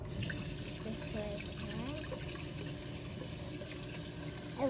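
A tap runs steadily into a kitchen sink filling with water for washing dishes, a continuous close splashing hiss with faint background voice sounds.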